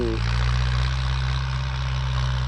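A tractor engine idles loudly and close by, with a steady low rumbling drone throughout.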